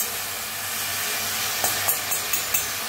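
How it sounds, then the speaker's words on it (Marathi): Moth beans (matki) dry-roasting in a hot kadhai with a steady hiss and sizzle, punctuated by a few sharp scraping stir strokes near the end. "तर पहिल्यांदा काय करू आपण मटकी भाजून घेऊया"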